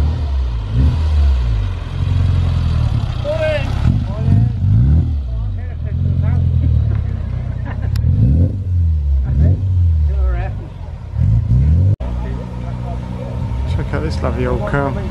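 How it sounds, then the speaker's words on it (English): A little Mini arrives at a car and bike enthusiast meet in Sturminster Newton, engine revving in repeated surges that swell and fade close by, with voices talking over the outdoor crowd noise. "Little Mini arriving."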